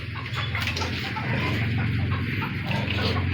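Chickens cluck and chatter continuously at close range over a steady background murmur.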